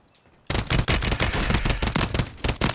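Rapid automatic gunfire from an SVA 565 in a video game bursts in suddenly after a quiet moment, a loud, dense string of close shots that keeps going without a break.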